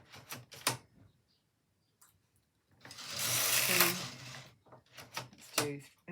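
A Brother KH710 knitting machine works slip stitch rows, its carriage sliding across in loud whirring, clattering passes, with a pause between bursts and brief ticking clicks at either end.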